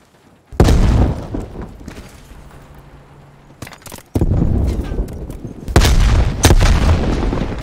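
Frag grenade detonating in Call of Duty: Black Ops Cold War multiplayer, a loud, close blast followed by more booming impacts and gunfire-like bursts amid the ongoing match noise.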